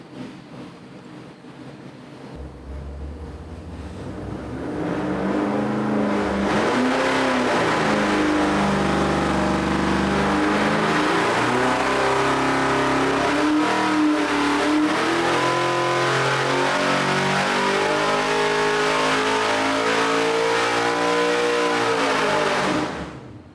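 An LS3-based 404-cubic-inch stroker V8 with 11.8:1 compression and a hydraulic cam roars through a dyno pull from 3,000 to 7,000 RPM, starting with a lower idle then climbing in a loud, steady, rising wail that cuts off at the end, with no talk.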